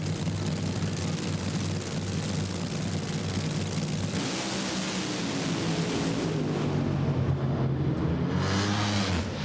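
An NHRA drag racing car making a qualifying run at the 2005 Las Vegas Nationals, a loud sustained engine roar with a deep rumbling base, shifting in character partway through and staying intense to the end.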